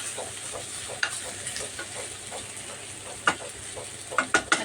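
Chayote sizzles in a pan with soy sauce and oyster sauce, a soft continuous frying hiss broken by a few sharp clinks of a utensil against the pan near the end, with no voices.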